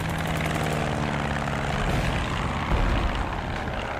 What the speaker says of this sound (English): Black plane, wings swept back.